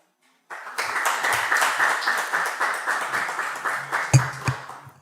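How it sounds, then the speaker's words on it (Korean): Steady applause from an audience, many hands clapping continuously at moderate volume, with a few louder claps near the end, welcoming a speaker at an academic conference. "우리 강사님 나오실 때 우리 큰 박수로 환영하시기 바랍니다"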